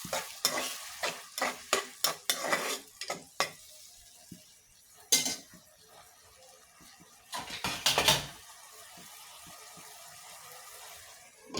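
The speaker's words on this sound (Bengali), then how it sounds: "দিয়ে দিলাম এখানে জিরে বাটা। আর একটু ঝোল দিয়ে ভালো করে কষিয়ে নিই।" Cumin paste stir-fried into curry gravy for katla fish sizzles in the pan while a spatula makes a run of sharp scraping and clattering strokes, then a pause and a couple more loud clanks.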